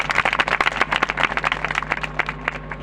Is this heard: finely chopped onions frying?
no